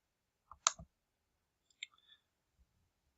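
A few crisp computer mouse clicks in a quiet room: a quick double click, then softer isolated clicks a second later.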